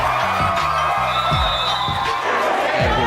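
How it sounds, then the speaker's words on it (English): Crowd roar at a basketball game, a loud continuous wash of cheering with repeated sneaker squeaks and whistle-like tones cutting through, close and steady for a few seconds. "and the crowd goes wild"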